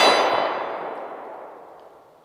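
A spent 9mm shell casing from a Hi-Point C9 pistol drops to the ground with one loud, sharp metallic clang that rings out and fades slowly over about two seconds.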